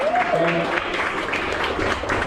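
Crowd clapping and cheering for riders at a riding school, a steady wash of applause with a voice calling out over it throughout.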